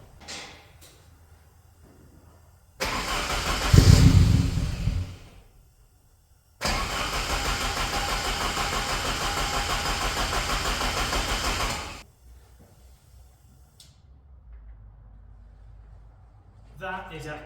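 Saab 2.3 turbo engine swapped into a UAZ 452 4x4 cranking on a Milwaukee battery: a loud burst of cranking, a pause, then a longer steady run of several seconds that cuts off, with quiet surroundings before and after.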